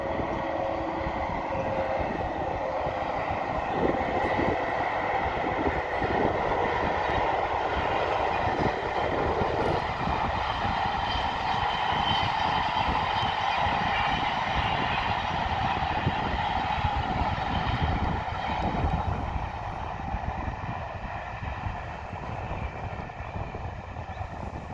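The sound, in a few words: train passing on the new railway line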